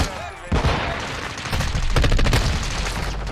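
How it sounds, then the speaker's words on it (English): Rapid, loud gunfire from a pistol in a first-person shooter match, a burst of closely spaced shots running almost continuously through the moment with no one speaking over it. "I'm testing out a pistol."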